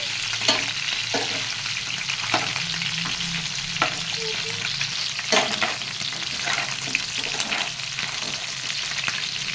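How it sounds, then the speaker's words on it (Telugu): Chicken pieces for a fry-piece biryani sizzle lightly in a pan, a steady crackling hiss with occasional louder bursts as they are stirred, close up and with no talking. "ఇది మనకు బాగా ఎక్కువ డీప్ అవ్వాల్సిన అవసరం లేదండి. ఇలా లైట్గా వేగితే సరిపోతుందంటే."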